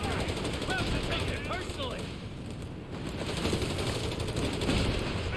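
Dense infantry gunfire crackles through a Company of Heroes 3 battle, rapid overlapping rifle and machine-gun bursts forming a continuous loud barrage, with a voice briefly heard amid the shooting.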